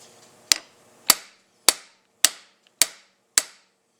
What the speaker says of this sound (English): you'll know that it's seated down all the way when the tone of the hitting the hammer changes